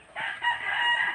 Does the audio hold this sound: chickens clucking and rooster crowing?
yes